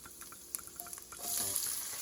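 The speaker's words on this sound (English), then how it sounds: "We're going to add our onions" Chopped onions hit hot rendered bacon fat in a pot and are stirred, a soft sizzle rising and swelling louder halfway through with light scraping clicks of the spoon.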